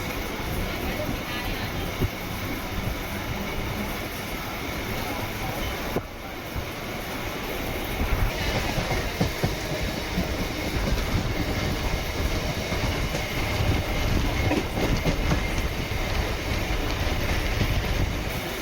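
An electric EMU commuter train on the Chennai Beach to Tambaram line near Pallavaram rolls along the rails with a steady rumble and rhythmic clatter, loud and close, growing slightly louder partway through.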